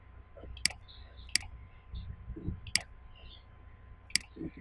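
A computer mouse is being clicked while editing in Adobe Premiere Pro. Four sharp, isolated clicks are spaced about a second apart over a quiet background.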